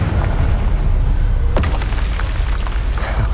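Fiery Confringo spell explosion in the video game Hogwarts Legacy, a loud booming blast over dense rumbling game noise, with a sharp crack midway and a rolling tail.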